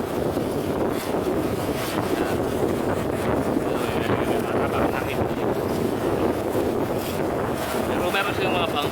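A boat cuts across the lake near Taal volcano in rough, choppy water, a constant churning roar of engine, splashing and heavy wind noise on the microphone.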